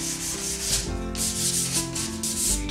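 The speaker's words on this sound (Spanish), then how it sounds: "Y vamos a lijar también la parte cercana a la orilla, por la parte superior y" Sandpaper rubs back and forth over a wooden frame being prepared for resin, a close, rhythmic scratchy rasping in repeated strokes, heard alone.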